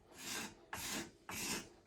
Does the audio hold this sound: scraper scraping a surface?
yes